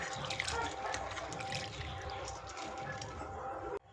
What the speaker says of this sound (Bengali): আমি এটা জল পাল্টে পাল্টে ধুয়ে নিচ্ছি 2-3 বার।